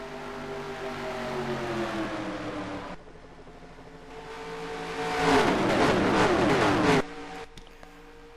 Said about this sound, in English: Off turns number 2, cars scrambling for positions.